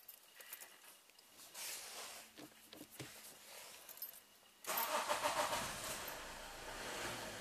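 A Toyota D4D diesel, just fitted with a new turbocharger, comes to life after some faint clicks and jangling. A sudden loud engine noise then continues as a steady running rumble, near and with no speech.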